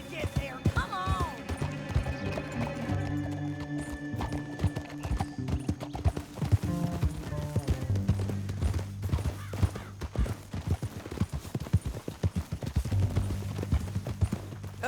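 Horse hooves clip-clop steadily through a Red Dead Redemption 2 ride, with a horse whinnying near the start, game music and voices talking over the trotting.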